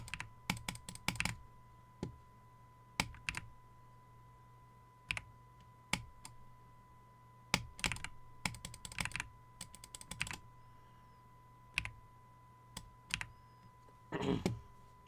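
A computer keyboard is tapped in scattered bursts of rapid, close key clicks, separated by short pauses over a faint steady hum, ending in a dense flurry of presses.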